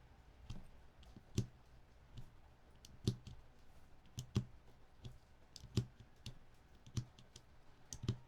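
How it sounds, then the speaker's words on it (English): Keyboard keycaps are pressed in one at a time, giving a slow, irregular series of soft, close clicks and thuds over a quiet background. "it actually feels like nicer to press the keycaps in"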